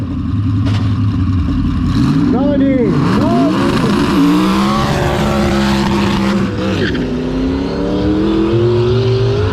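A four-wheel-drive car set to rear-wheel drive at the start of the V&K Teed One Mile hill climb, engine revving hard with rising and falling pitch through gear changes, loud and close, with people talking over it.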